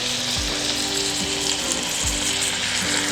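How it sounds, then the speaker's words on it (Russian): Meat rolls fry in a pan in a mix of vegetable oil and butter, giving a steady close sizzle throughout with a few soft low knocks of the pan. "на смеси растительного и сливочного масла обжариваю до золотистого цвета вот эти вот рулеты"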